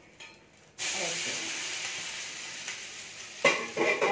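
A semolina snack cooks in oil on a pan over medium flame, giving a steady close hiss and sizzle that starts abruptly and holds, with a few scraping and clattering touches toward the end.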